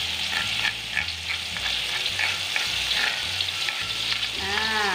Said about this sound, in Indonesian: Nah, ini minyaknya sudah panas, lalu kita tuangkan atau kita masukin ini bumbu halusnya.